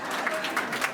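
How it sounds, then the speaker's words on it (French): Audience applause at a New Year's wishes and school-year opening ceremony, a brief burst of many hands clapping together, moderately soft and steady for about a second with no voices. "Applaudissez pour eux."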